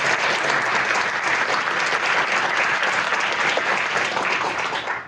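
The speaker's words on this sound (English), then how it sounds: "could we just get another huge round of applause?" Audience at a forum panel on South Asian histories gives a sustained, loud round of applause lasting the whole stretch and tapering off right at the end.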